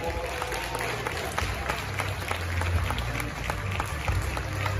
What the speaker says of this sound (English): Shall we congratulate him with some more applause?